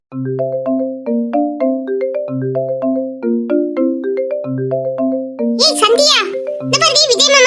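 Mobile phone ringtone playing a repeating melodic jingle of clear electronic tones, loud and close, with a voice breaking in near the end.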